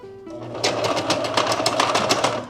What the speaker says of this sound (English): Something's clanking in the bobbin, so I'll have to fix the bobbin.